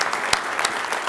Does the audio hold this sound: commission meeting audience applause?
yes